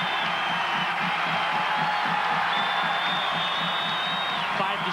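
A basketball crowd at a Bradley vs ISU game in 1995 cheers and roars in a dense, continuous wash, with a whistle tone riding on top and faint rhythmic thumping beneath.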